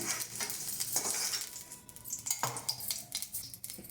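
Ingredients for curry leaf powder fry in a pan with a crackling sizzle, punctuated by uneven metal spatula scrapes and clinks against the pan, close and fairly quiet, without speech.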